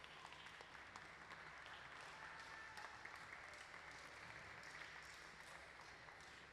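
Audience applause fills the room after a glassblowing demonstration at a museum hot shop, a steady dense wash of many hands clapping at moderate distance without a break.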